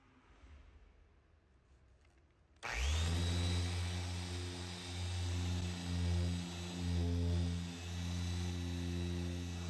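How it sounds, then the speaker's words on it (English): A dual action polisher starts up after a quiet moment and works a scratch out of a car door, giving a loud, steady motor whine that swells and dips rhythmically as it moves across the panel. "you can see how the polisher makes quick work of getting rid of the scratch"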